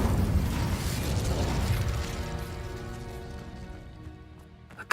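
Confringo and Incendio spells erupting in Hogwarts Legacy as a loud, dense fiery burst that stays steady for a couple of seconds, then fades into a ringing, crackling tail with a sharp pop at the very end.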